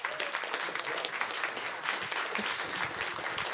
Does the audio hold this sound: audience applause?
yes